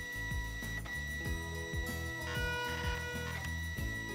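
A Zebra ZT410 industrial label printer runs a test print, giving a steady mechanical whir with a rapid, regular ticking pulse throughout, close and fairly loud, with no talk.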